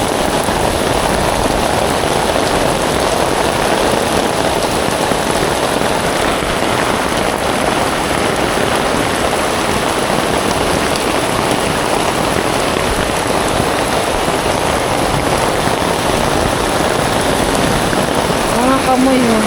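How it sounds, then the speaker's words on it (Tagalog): Heavy rain pours steadily and loudly, a dense continuous hiss of drops hitting a surface with no breaks. "lakas po ng ulan"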